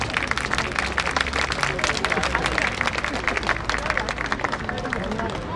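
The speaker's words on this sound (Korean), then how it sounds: "큰 박수 한번 부탁드리겠습니다" Audience clapping loudly at a May 3 democratization movement commemoration ceremony in Incheon, a dense, sustained round of applause with crowd murmur beneath.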